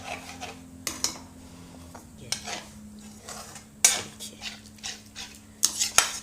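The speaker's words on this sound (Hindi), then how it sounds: "ये अब इसको हम चलाते रहेंगे, नहीं तो मेरा मट्ठा फट जाएगा।" A spoon stirs buttermilk in an Indian kadhai over medium heat, giving a string of close metallic scrapes and clinks against the pan with a few sharper knocks, loud and irregular over a faint low hum.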